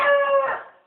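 A single short rooster crow rings out from a barnyard flock of chickens: one bright, strained call that is loud at first and then fades quickly.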